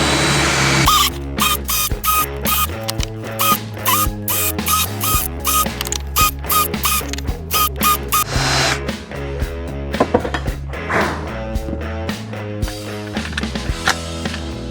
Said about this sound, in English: I'm going to use this bit right here and sink these screws